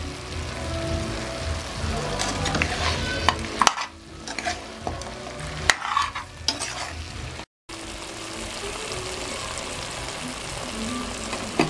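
Sheep head curry simmering and sizzling in a pan, a steady crackling fry with intermittent scraping stirs, close and moderately loud, with a brief dropout near the end.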